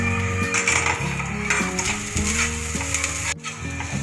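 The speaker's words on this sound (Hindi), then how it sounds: "नारियल को भी अच्छे से फ्राई कर लीजिए. थोड़ा सा हल्दी डालिए और भून लीजिए अच्छे से." Grated coconut frying with turmeric in a pan, a steady close sizzle with a spoon stirring and scraping the metal in short strokes, no talking over it.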